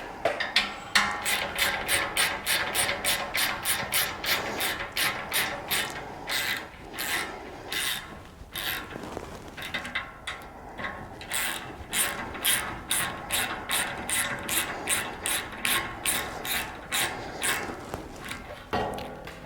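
A hand ratchet tightening load bar bolts on a Toyota 4Runner roof rack, rapid clicking strokes in steady bursts with short pauses, close and crisp.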